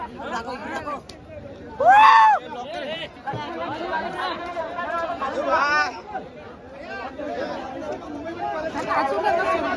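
Crowd at a Republic Day bullock cart race on an open ground cheering a winning pair, a dense din of many voices with a sharp whistle or shout near the start and a steady babble of chatter throughout.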